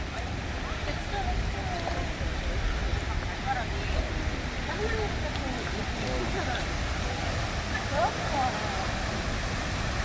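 Cheonjiyeon Waterfall on Jeju Island, 22 meters high, roars as a dense, constant broadband rush of falling water, steady and loud throughout with faint voices mixed in.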